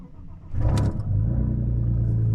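An Audi A4 B5 Quattro engine cranks and catches after sitting idle for two months, bursting into a loud start around the midpoint and settling into a steady, close idle rumble.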